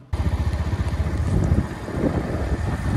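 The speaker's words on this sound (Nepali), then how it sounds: "अब बाइक स्टार्ट गर्नु पर्यो" A motorcycle engine fires up close by and settles into a steady, throbbing idle with a pulsing low rumble.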